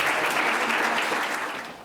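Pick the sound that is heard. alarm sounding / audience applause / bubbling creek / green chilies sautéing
audience applause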